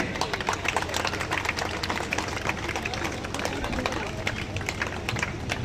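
A crowd at a BJP political rally in Bhiwani claps steadily, a thick patter of many hands running throughout, with a voice talking over it.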